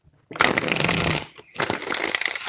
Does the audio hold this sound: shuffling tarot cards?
yes